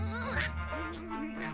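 A sheep bleats in a cartoon, a short wavering cry heard up close in the middle of voiced animated dialogue.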